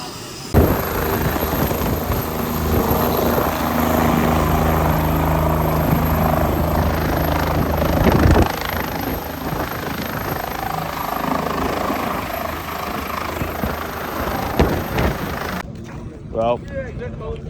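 A helicopter's rotor and turbine drone loud and steady, arriving at a car show, with wind buffeting the microphone and people speaking under the noise before it cuts off abruptly near the end.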